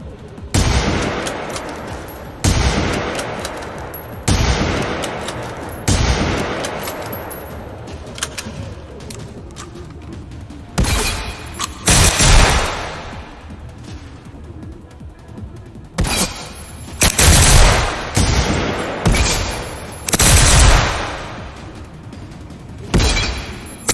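Gunfire from a weapon in the video game Generation Zero: repeated loud, sharp shots and short bursts echo across open terrain, spaced irregularly over the whole stretch with no talking.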